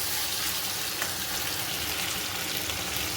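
Vegetable bhujia frying in a pan, a continuous soft sizzle with faint stirring scrapes, steady and close with no voices.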